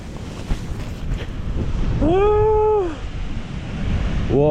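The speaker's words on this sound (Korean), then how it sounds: "파도 엄청 거세다" Strong ocean waves surge at Daeijakdo island with heavy wind buffeting the microphone, a loud continuous roar broken by a brief vocal cry.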